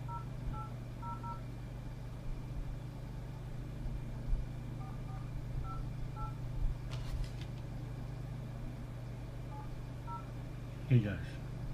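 Telephone keypad dialing tones outdoors on a city street: short pairs of DTMF beeps in scattered bursts over steady traffic hum, with a brief clatter near the end.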